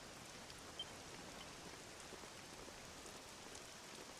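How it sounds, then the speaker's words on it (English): Rain falling in the video game Dragon Quest VII Reimagined, a soft, even hiss of steady drops on surfaces, very faint and continuous with no voices. "This accursed rain'll chill ye to the bone."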